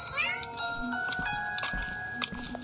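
A cat meows in the video game Baby in Yellow, with several short, tonal mewing calls over steady game music and chimes, fairly close and clear for under three seconds.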